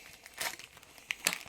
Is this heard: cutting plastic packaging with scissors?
yes